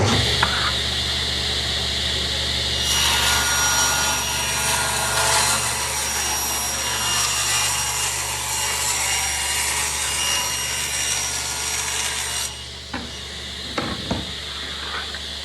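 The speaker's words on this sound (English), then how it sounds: "Go over to the table saw here. I'm going to rip that strip at 2 1/2 inches" Table saw ripping a 2 1/2 inch strip of wood: a continuous loud, harsh cutting whine over the motor hum for about ten seconds, then the blade spins down with a few clunks.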